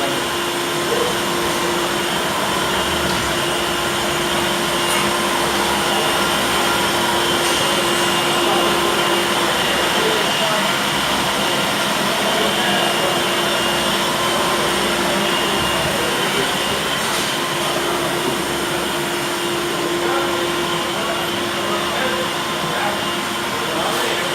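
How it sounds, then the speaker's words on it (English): A steady, loud motor whine from the vacuum motor of an AOKE DCZ70 CNC flatbed cutter drones without pause, with a constant hum and faint intermittent clicks over the top. "Vacuum motor and this motor."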